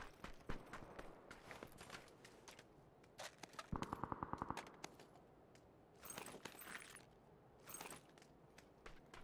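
Shots ring out in the PUBG video game: scattered sharp cracks, a rapid automatic burst in the middle, then more isolated shots and rustling movement at a fairly faint level, with no talk.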